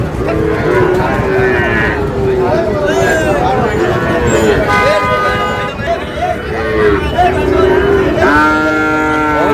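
Cattle, including Sahiwal bull calves, moo repeatedly, loud and close, over a busy livestock market crowd of chattering voices, with several drawn-out lowing calls overlapping.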